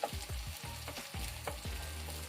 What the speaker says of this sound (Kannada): ಹಿಂಗಿರೋ ಮೆಣಸಿನ್ಕಾಯಿ, ಸ್ವಲ್ಪ ಎಣ್ಣೆಲಿ ಫ್ರೈ ಮಾಡ್ಕೊಳ್ಳಿ